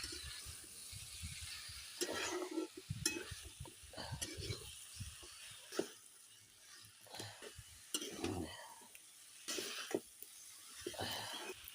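Fried ingredients and spices are stirred in a pan, making irregular scraping and shuffling bursts over a low, soft sizzle, fairly quiet and close.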